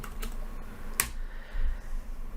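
Light keystrokes on a computer keyboard while renaming a sequence in Avid Media Composer, a few soft clicks including one sharper tap, close and quiet over steady room hum.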